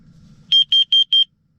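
A carbon monoxide detector inside a truck camper gives four quick, loud, evenly spaced high beeps after a faint low rumble.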